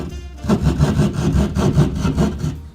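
Handsaw cutting through drywall in a basement, a steady rhythmic back-and-forth rasp of repeated strokes, close and loud with no talk.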